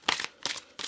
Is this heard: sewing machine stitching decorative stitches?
no